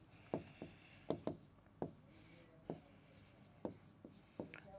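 A pen writes on paper during a lecture, scratching out a series of short, separate strokes with irregular pauses between them, close and fairly quiet.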